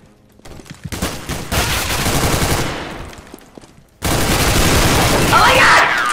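Gunfire in the video game CS:GO comes as rapid, loud bursts of shots that crowd together into a dense clatter, broken by a brief pause before a second intense volley.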